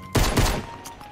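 Gunfire crackles through a battle royale video game match, a burst of rapid, dense shots followed by a second close volley and a few fainter trailing pops, all heard alone without talk.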